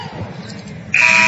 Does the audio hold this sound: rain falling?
no